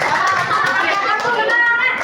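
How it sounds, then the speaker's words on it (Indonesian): A class of students clapping together in a lesson on computational thinking, a quick, even patter of many hands close by, with children's voices chattering faintly underneath. "tepuk tangan untuk kita semua dulu"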